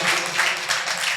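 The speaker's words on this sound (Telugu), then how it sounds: "కొట్టు చప్పట్లు గట్టిగా." A church congregation claps loudly at a preaching service in Narasaraopet, a dense, continuous burst of many hands filling the short moment without speech.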